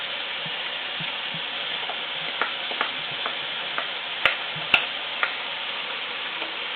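A spoon works through roasted butternut squash soup in a pot, with light clicks and taps against the pot's side over a steady background hiss, heard near and without talk.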